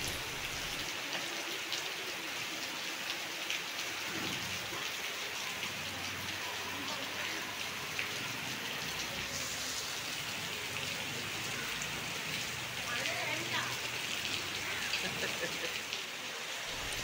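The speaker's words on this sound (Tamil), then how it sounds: "பாருங்கள் மழை எப்படி பெய்யுதுன்ட்டு" Heavy rain pours steadily outdoors at a home in Sri Lanka, a dense, constant hiss of drops hitting surfaces with no break. A voice speaks faintly beneath the downpour.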